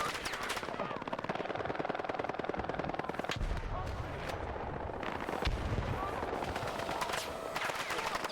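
Rapid machine-gun bursts and heavier mortar-like explosions in a Battlefield video game, dense and continuous with sharp repeated cracks and a couple of deeper booms, fairly quiet in the mix.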